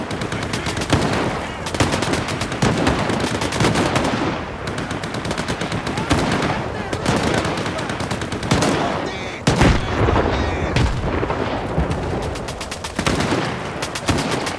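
Dense gunfire in the shooter game Stalker 2, with rapid automatic bursts and single shots cracking loudly and almost without pause through the whole stretch, no voices.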